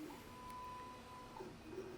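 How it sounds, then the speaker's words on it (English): A 3D printer at work, giving a quiet, steady mechanical hum with faint high tones gliding across as its stepper motors move, continuous and low in level throughout. "And my printer, as always, working hard, doing really cool things."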